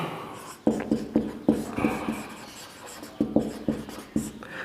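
Marker or chalk strokes on a board during a chemistry class lecture, a series of about a dozen distinct, fairly quiet taps and scrapes in an irregular writing rhythm.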